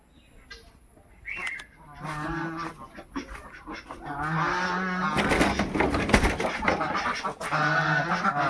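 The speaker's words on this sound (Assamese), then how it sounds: "সেইকেইটা গাইছ বান্ধি ৰাখিছোঁ এইকেইটা কেইটামান এৰি দি থৈছোঁ হাঁহ" Several geese and ducks, some tied up and some loose, honk and quack in a noisy, overlapping chorus nearby, with calls building and continuing steadily.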